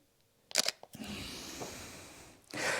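A camera shutter fires at 1/250 second, giving a crisp close click and then another a couple of seconds later, against a quiet background.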